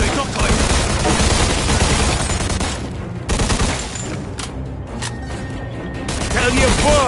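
Sustained gunfire in a Mafia 2 shootout, dense volleys of shots that rattle almost nonstop and ease briefly before picking up again, loud and close.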